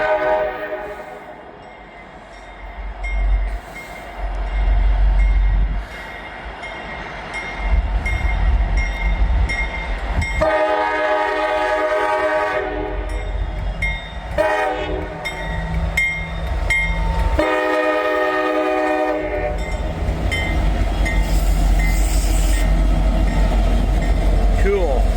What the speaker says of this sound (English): saw a CSX train, and there it is, X511